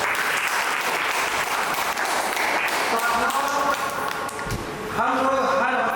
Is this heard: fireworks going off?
no